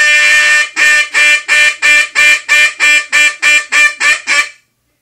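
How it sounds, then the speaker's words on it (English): A Buck Gardner Mainstreet duck call, a loud spit-tag hunting call, is blown in a ringing hail call: about a dozen sharp, loud quacks in a rapid, evenly spaced series that tapers slightly before cutting off. "Mainstreet duck call. It's a real loud hunting call, and it's a spit tag"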